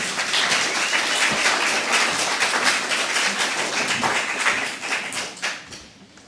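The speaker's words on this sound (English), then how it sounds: "I would ask them to give a warm applause to Ida Börjel." An audience at a poetry talk applauds warmly, with dense, sustained clapping that fades out near the end.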